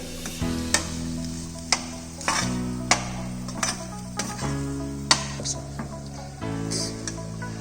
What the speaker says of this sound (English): Just lightly mix the mixture.